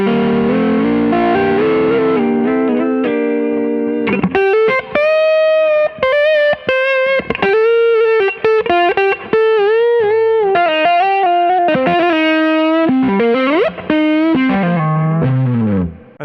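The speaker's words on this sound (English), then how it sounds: "the second gain stage will be like a little bit more of an overdrive. It's a Nordland ODRC" Electric guitar played through a Nordland ODRC overdrive pedal, a gain stage giving a warm, driven tone; loud, sustained melodic lead lines with bends and vibrato, continuous and alone, ending on a falling slide.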